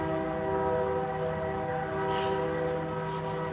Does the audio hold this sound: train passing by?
yes